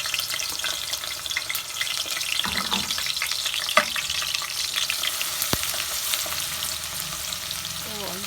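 Ginger, garlic and onion sauté together with pork liver and pork in a hot pan, a steady close sizzle with scraping stirs and an occasional sharp knock of the utensil.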